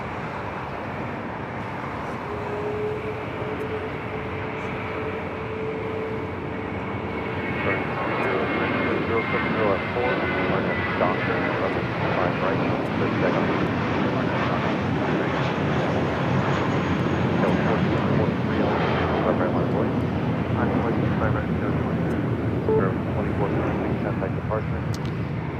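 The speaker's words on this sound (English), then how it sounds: "A320 now taking off" A Spirit Airlines Airbus A320 roars down the runway on takeoff at LAX, a broad steady engine rumble that swells louder partway through, with a person talking over it.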